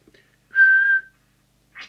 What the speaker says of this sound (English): quick whistle check just to make sure that my